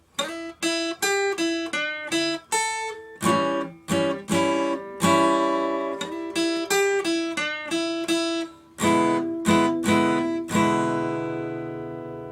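A clean electric guitar plays a Texas blues phrase of plucked single notes and chords in E, evenly picked with short pauses, ending on a ringing chord.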